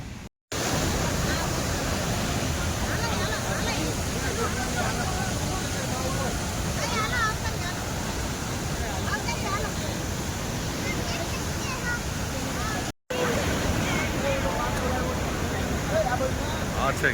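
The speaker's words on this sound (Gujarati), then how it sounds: "આ છે ગિરાધોધ," Gira waterfall at Saputara, swollen during rain, gives off a loud, steady roar of rushing water that fills the whole stretch without pause, apart from two brief cuts.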